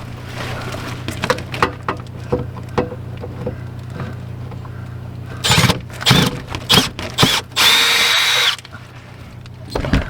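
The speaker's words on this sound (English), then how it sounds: "Let's just go ahead and pull that last screw out." A power drill backs the last screw out of an RV power distribution panel, with scattered clicks and handling noises, then a few short, loud drill bursts and a sustained whir near the end.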